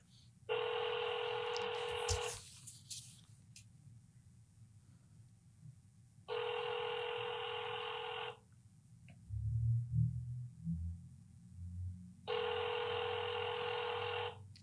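A telephone rings unanswered, three long electronic ring bursts separated by silent pauses, with a brief low voice murmur between the second and third rings.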